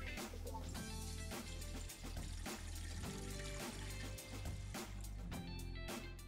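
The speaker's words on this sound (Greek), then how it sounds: "Ρίχνουμε αρκετό νεράκι μέσα στη χύτρα μας." Water pours into a pressure cooker fitted with a steaming trivet, a steady splashing stream with a gurgling, bubbly texture and faint metallic ring, continuous and close, while music plays underneath.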